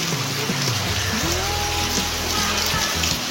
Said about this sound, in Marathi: आणि पाऊस एकदम जोरात पडतोय.